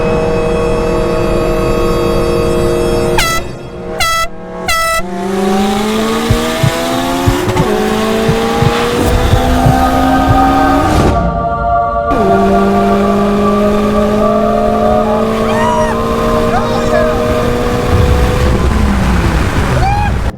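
A fully built 900 horsepower Mitsubishi Evo X accelerating hard, its loud engine climbing through rising revs with sharp gear-change breaks, the roar holding close and strong throughout.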